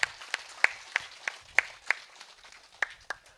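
Scattered audience applause for a revered guru at an anniversary gathering in Belagalam, Kurnool: a handful of sharp, separate claps at an uneven pace, fairly quiet and heard on their own.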